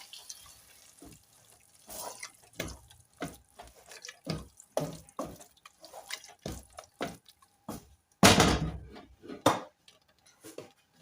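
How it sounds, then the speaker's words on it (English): Water running from a kitchen tap into a cooking pot of beans, heard as a series of short irregular splashing bursts with one longer louder pour, close and without talk. "Let me add some water"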